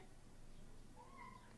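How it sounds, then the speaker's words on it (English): A faint, short meow rises out of a quiet, hissy background near the end, distant and soft. "Is that Panther meowing?"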